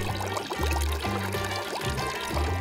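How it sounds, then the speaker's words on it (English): Water is poured into a container for a children's walking-water color experiment, a short, close splashing trickle heard under bright background music. "First, you pour the water in."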